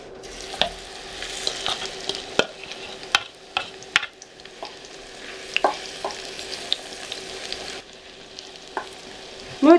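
Battered cauliflower fries in a pan with a steady sizzle, broken by scattered sharp crackles and spatters, plus a louder pop near the end.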